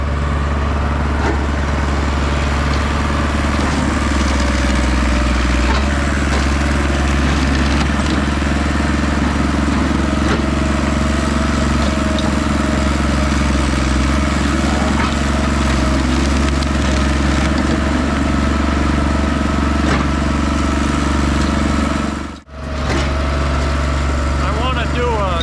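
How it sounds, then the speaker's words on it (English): A firewood processor engine runs steadily on its own, a loud continuous mechanical drone that holds constant for the whole stretch, dipping only for a brief moment near the end. "letting this thing run all by itself"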